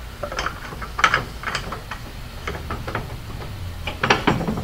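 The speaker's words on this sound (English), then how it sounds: "Drop this in, screw it on, pump it up" A white-fuel camp stove's fuel bottle is pumped up by hand, giving a run of close, dry mechanical clicks and squeaks in an uneven rhythm, with no talking.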